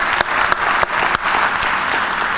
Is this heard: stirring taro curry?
no